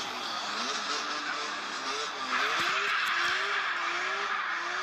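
A BMW M3 racing a Nissan revs hard, with rising and falling engine pitch and tire noise over a constant roar. The car sounds moderately distant and keeps a dense, steady level throughout.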